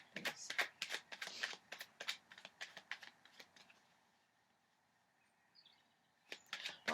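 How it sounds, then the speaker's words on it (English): Tarot cards are shuffled in quick clicking, riffling bursts, fairly close and soft, which stop for a quiet pause before one more short flurry at the end. "This is your last shuffle."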